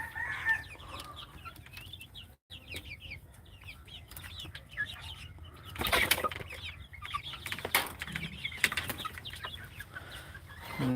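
Chickens cluck intermittently at a moderate distance, with occasional louder bursts of fowl calls and a flutter of wings, the backdrop otherwise quiet.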